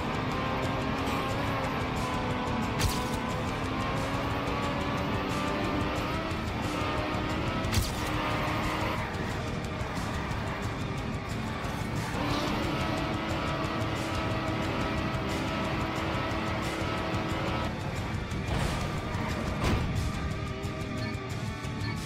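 Race cars in a racing video game, engines droning and revving steadily at a moderate level, with occasional sharp bumps or scrapes breaking through the continuous whine.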